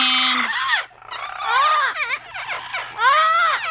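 Amazon parrots, including yellow-fronted, double yellow-headed and blue-fronted birds, squawk loudly and close by. The harsh, rising calls come in repeated bursts with short gaps between them.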